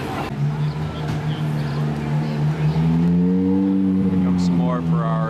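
Ferrari cars roll in on a summer day in Cleveland, with steady engine rumble and a rising rev passing close by. Someone speaks over the engine noise throughout.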